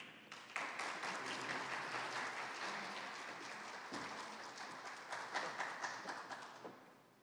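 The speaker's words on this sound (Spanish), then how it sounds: "Para él un fuerte aplauso." Applause for a FAO representative at a conference in the Dominican Republic: a sustained wash of clapping from a room audience, swelling briefly near the end and then fading out.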